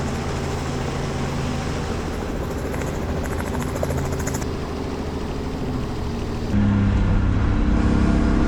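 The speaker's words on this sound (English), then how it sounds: "And eventually flying a helicopter to track Doug's M3" A loud, continuous helicopter rotor thump and engine whine in a racing video game, steady and close, growing a bit heavier toward the end.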